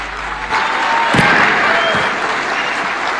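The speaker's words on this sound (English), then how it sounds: "Another round for applause to Irungu Kangata." Audience applause at a devolution conference in Homa Bay fills the hall, a broad steady wash of clapping that swells in and holds loud from start to finish.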